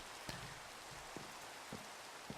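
Rain falls in the modded Minecraft world as a soft, steady hiss, faint and even, with a few small taps landing at irregular moments.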